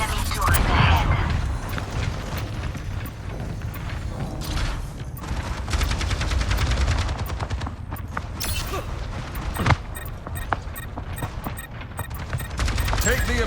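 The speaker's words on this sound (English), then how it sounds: "Enemy turret ahead." Rapid automatic turret fire from an enemy emplacement in a video game, a dense continuous rattle of shots with a few louder bursts, heard over game music and effects.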